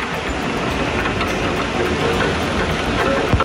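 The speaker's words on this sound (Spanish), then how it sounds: "Mira cómo se ve, como llueve. Está lloviendo." Steady heavy rain falling outside at a lodging during preparations to climb Nevado del Cocuy, a continuous broadband hiss and patter filling the clip at an even, fairly loud level with no voices.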